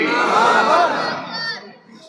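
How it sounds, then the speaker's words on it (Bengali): A large crowd at an Islamic religious gathering loudly chants Astaghfirullah in unison, a single sustained mass of voices that fades out at the end. "সবাই একবার বলেন আস্তাগফিরুল্লাহ, জোরে বলেন আস্তাগফিরুল্লাহ"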